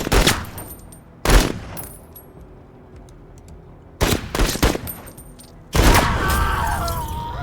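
Gunfire from soldiers in the tactical game Battle Brothers, with loud bursts of shots and volleys in three clusters, separated by quieter stretches, the last burst trailing into a long rumble.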